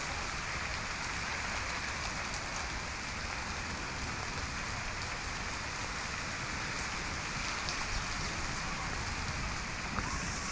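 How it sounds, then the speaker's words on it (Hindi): Heavy, steady rain pours down on a custard apple and papaya orchard in a constant dense hiss, with no voices and no breaks. "ज़्यादा बारिश हो रही है"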